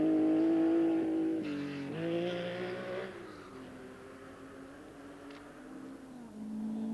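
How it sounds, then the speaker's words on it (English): Citroën Visa rally car driven by Mark Lovell on the 1984 RAC Rally, its engine revving hard near the microphone, then pitching down and droning away more faintly as it passes. "Now this is Mark Lovell in the Citroën Visa."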